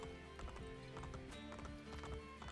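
Horse hooves clip-clopping in the Assassin's Creed: Brotherhood video game, a quick rhythmic run of hoof strikes over a soft musical background, close and fairly quiet.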